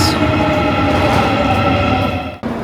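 A subway train in Seoul, South Korea rumbles loudly and steadily through a station, a continuous roar of wheels and motor that dips sharply for a moment near the end.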